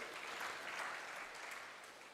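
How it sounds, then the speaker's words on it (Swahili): Brief, faint applause from a forum audience of young engineers, a soft wash of clapping fading slightly toward the end. "Makofi tena kwa Engineer Martin David."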